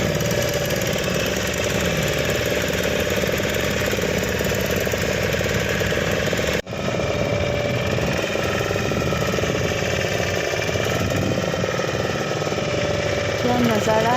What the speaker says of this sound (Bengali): আমাদের বোট স্টার্ট হয়ে গেছে